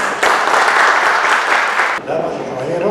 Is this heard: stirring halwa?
no